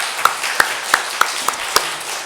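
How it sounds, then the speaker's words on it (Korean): Church congregation clapping in praise, six sharp, evenly spaced claps over a faint room hum, short and fairly close. "크게 하나님께 영광의 박수 돌리겠습니다."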